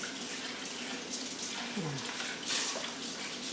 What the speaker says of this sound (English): I have to just wash this off a bit.